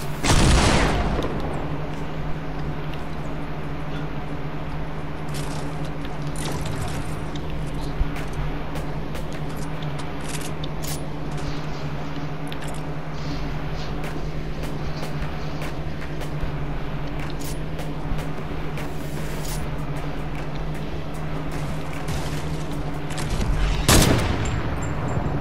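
Gunfire in Fortnite sounds as scattered sharp shots over a steady droning background hum, with louder bursts at the very start and near the end.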